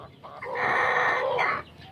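On a farm, fancy-breed chickens let out one drawn-out, fairly loud call close by, lasting over a second against a quiet background.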